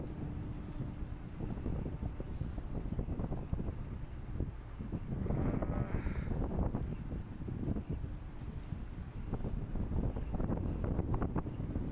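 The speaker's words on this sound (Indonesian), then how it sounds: "Cuaca saat ini angin dari barat" A steady west wind blows across the deck of a cargo ship approaching the port at Manokwari, with continuous buffeting wind noise on the microphone and a low rumble underneath.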